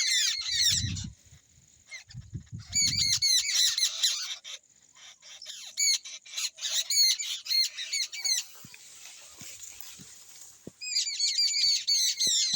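Loud, harsh bird squawks come in repeated bursts, several calls overlapping close by, with short quiet gaps and a few low thuds in between.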